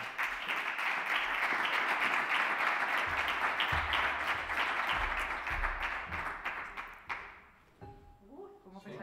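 An audience at a science journalism awards ceremony gives a winner a full round of applause, dense and sustained for about seven seconds before it stops abruptly and a voice begins speaking.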